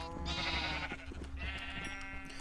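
Sheep in a Minecraft-style farming game bleat in two long, wavering calls, loud and close, one right after another, with no talk over them.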